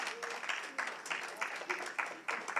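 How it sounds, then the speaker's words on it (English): A town hall audience at a G20 community engagement event in Mpumalanga gives faint, steady applause, heard as soft, continuous clapping from some distance. "Please give a round of applause."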